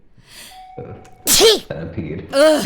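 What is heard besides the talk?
sneeze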